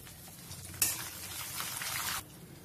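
Curry leaves hit hot tempering oil for tamarind pulihora with a sudden loud burst of spattering sizzle that holds for over a second, then drops back to a quiet low bubbling.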